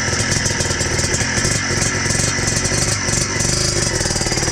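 Yamaha Blaster 200cc quad engine revving close by, a loud buzzy clattering drone with steady pulsing throttle and no pause.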